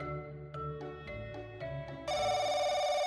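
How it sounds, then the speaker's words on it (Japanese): A telephone rings in the Japanese horror adventure game Kaiki Reikan Shōnen, a clean electronic melody of stepped tones that swells into a louder sustained ring, with no voices over it. "電話鳴った。"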